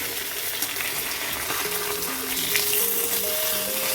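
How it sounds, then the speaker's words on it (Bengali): A fish head fries in a pan with a continuous sizzling hiss. Faint tonal sounds hum in the background. "মাছের মাথাটাকেও এখন ঢেলে দিয়ে দেবো।"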